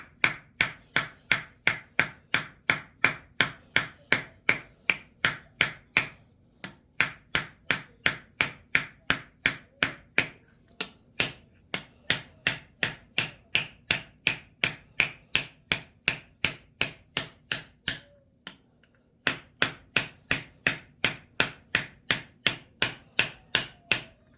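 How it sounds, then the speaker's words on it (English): Rapid, steady metallic ball peen hammer taps ring out close by, texturing copper over a hitch ball backer, dozens of sharp strikes in long runs broken by short pauses. "I use this hitch ball as a backer and just use a ball peen hammer"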